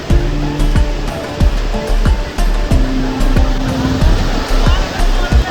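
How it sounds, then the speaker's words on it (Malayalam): Sea surf rolls steadily onto a Kerala beach as a fast boat passes offshore. A continuous broad wash of waves carries recurring tonal engine whines rising and falling over it. "ആ തിരമാലകളൊക്കെ മറികടന്ന് ചാടി ചാടി പോകുന്ന ആ ഒരു കിടലം കാഴ്ചയാണ് നമ്മൾ കടപ്പുറത്ത് നിന്ന്"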